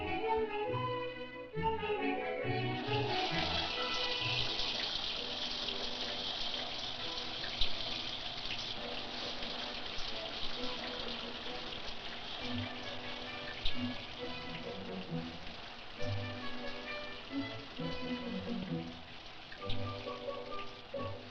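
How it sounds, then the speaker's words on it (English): Hot water from a shower runs in a steady, close hiss and patter that fills the whole stretch without a break, with no voices. "C'est un douche chaud, compris?"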